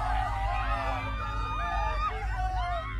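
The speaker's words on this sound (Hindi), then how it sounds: "उसी के साथ बहुत सारी दर्दनाक चीखें भी सुनाई देने लगी।" Many painful screams and wails rise and fall over a dense low rumble, a chaotic, eerie horror sound effect with overlapping cries heard continuously throughout.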